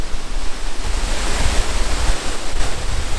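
Muradiye Waterfall in eastern Turkey, partly covered in snow, gives a continuous broad roar of rushing water heard from a viewpoint. It stays loud and even throughout, with some wind buffeting and no voices.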